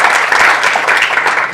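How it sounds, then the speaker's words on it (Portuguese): Audience at a health conference panel in Brazil bursts into sustained, dense applause, a steady wash of many hands clapping close and loud throughout. "uma salva de palmas com força"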